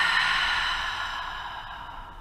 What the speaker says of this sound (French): prends une grande inspire par le nez, expire par la bouche